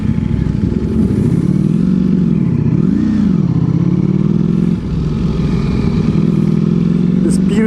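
A 2023 Ducati Panigale V4 SP2 motorcycle engine drones steadily and loudly at close range, with a deep tone that rises and dips briefly as it revs, heard in warm Miami weather.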